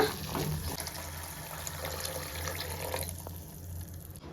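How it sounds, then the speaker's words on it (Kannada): Water pours into a pot of soaked chickpeas for Kerala kadala curry, a steady soft gush and trickle that runs nearby for the full few seconds and thins near the end, with no talk. "ಎಷ್ಟು ನೀರು ಬೇಕೋ ಅಷ್ಟು ನೀರು ಸೇರಿಸ್ಕೊಬಿಡೋಣ"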